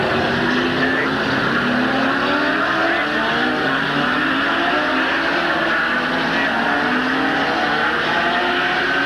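Stock race cars running a slow parade lap at Midvale Speedway in 1986, a dense continuous roar of several engines droning close by with shifting overlapping pitches and no break.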